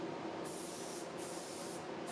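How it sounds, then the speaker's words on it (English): A Harbor Freight HVLP spray gun sprays paint on a machine tool turret tailstock, a steady pressurized hiss broken into three bursts with brief pauses between them, alone and close. "I decided to use one of the Harbor Freight HVLP spray guns."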